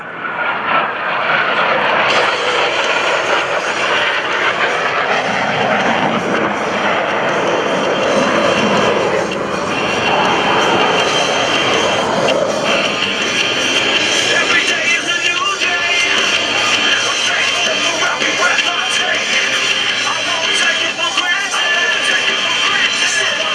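US Navy Blue Angels jets roar through an opposing knife-edge pass at an open house air show, a loud sustained engine roar that swells and fades over the whole stretch.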